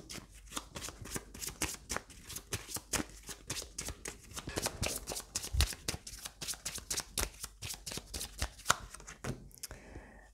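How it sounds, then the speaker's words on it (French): Tarot cards shuffled continuously by hand, a steady flurry of crisp riffling and slapping clicks up close, with no voice over it until the shuffle stops at the end. "mélange les cartes"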